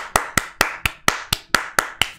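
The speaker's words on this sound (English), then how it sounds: "Round of applause, everyone." Rhythmic clapping, about nine crisp, evenly spaced claps from what sounds like one person close by, with no other sounds between them.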